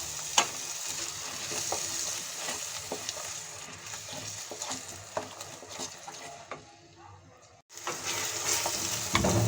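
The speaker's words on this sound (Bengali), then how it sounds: "আমি এখন এর মধ্যে দিয়ে দিচ্ছি টমেটো পেস্ট। আবার মশলাটা ভেজে নেব।" Ground spices sizzle with tomato paste in a pan while Shahi Paneer is being made. A moderate, crackling fry runs steadily with light stirring clinks, briefly dropping away before resuming.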